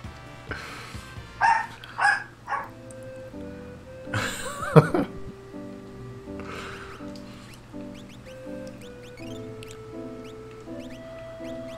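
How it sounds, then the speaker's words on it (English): A chiptune-style dog bark from the Final Fantasy VI video game yaps in a few short bursts near the start and middle. Retro game music with melodic beeps plays underneath. "I'm enjoying this dog sound."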